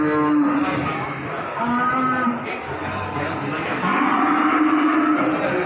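Cattle at the Paing cattle market in Pati lowing in several long, loud moos close by, one after another, over busy market noise.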